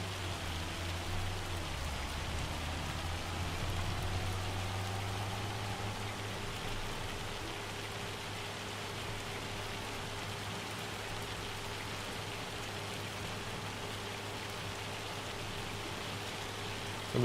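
A steady downpour of hail and rain in Farming Simulator 25 forms a continuous, even hiss over a low droning hum, unchanging for the whole stretch.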